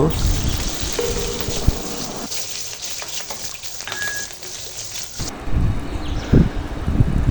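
Onions and chilies hit hot oil left over from frying kaikka fish, giving a steady close crackling sizzle that thins out midway, then swells again with a few louder spits and thumps near the end.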